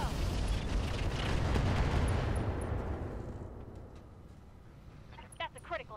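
Mech weapons firing in the RogueTech BattleTech game, a Jenner loadout with Clan LRMs: a dense, loud rumbling barrage of blasts and booms that gradually fades, with someone speaking briefly.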